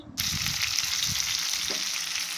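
Garlic cloves and small sambar onions sautéing in hot oil in a pan, a bright steady sizzle that starts abruptly and holds, with a few soft stirring knocks underneath.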